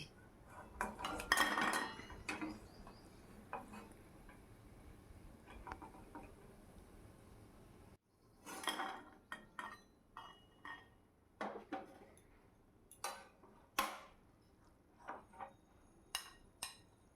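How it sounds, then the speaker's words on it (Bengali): Fried potato snacks are lifted out and set onto a plate, with scattered clinks and light scraping against the dish, a denser clatter at first and then sparse separate taps, with no talk. "এবার তেল ঝরিয়ে একটা প্লেটের মধ্যে আমি তুলে রাখছি"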